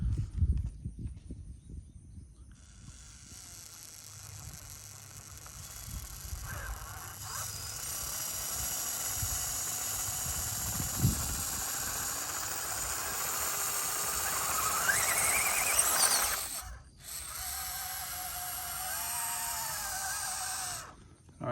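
Two small RC crawler trucks, an SCX24 with FMS axles and a stock FCX24, strain against each other in low gear, giving off a steady high motor whine and gear noise. The sound swells louder, cuts out briefly, then resumes.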